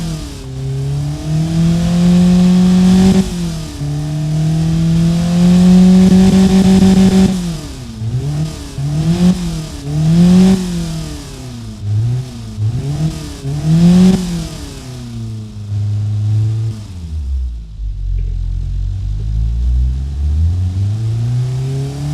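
A Škoda Favorit carbureted engine revs in the Automation video game, climbing and falling repeatedly in loud, buzzy sweeps, then settling into a deeper, rough, lower-pitched drone near the end, with no one speaking.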